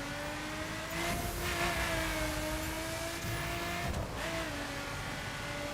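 A car engine drives in The Crew video game, a steady sustained engine tone with gear shifts and surging acceleration, moderately loud and without speech.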